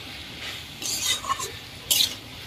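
Mixed vegetables with Malabar spinach are stirred in a cooking pan over soft frying sizzle, with two or three distinct scraping strokes of a spatula, close up and moderately loud, with no talking.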